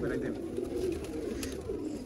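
Sialkoti Sheikh-breed pigeons coo softly in a low, steady burble, with someone talking over them throughout.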